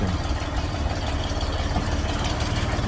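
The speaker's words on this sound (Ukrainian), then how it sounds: "Булат 204 Елька їде до свого власника" A Bulat 204 minitractor engine runs steadily at close range, a loud continuous low throb with a rattly mechanical texture and no voices.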